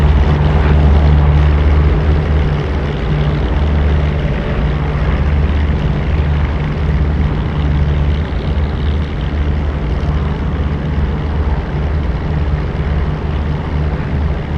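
A propeller warbird in the DCS flight sim rolls down a runway, its engine droning steadily and loud with a low throbbing hum and no pause throughout.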